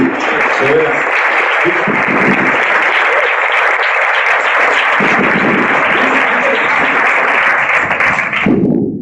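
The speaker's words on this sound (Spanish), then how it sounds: "¿Por qué no le da un aplauso al rey?" Church congregation applauding during a sermon, a dense, loud wash of clapping that runs almost unbroken for several seconds before cutting off sharply near the end, with voices mixed underneath.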